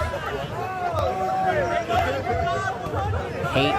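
A crowd of onlookers murmurs and chatters in a steady, close babble of overlapping voices as they watch someone perform in a VR clip, with brief louder exclamations rising out of the hubbub.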